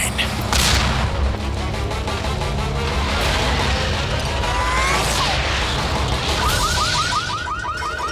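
Explosions and rocket launcher fire roar from the cartoon Godzilla: The Series, a dense loud barrage of blasts with whooshing sweeps and a rapid chirping electronic warble near the end.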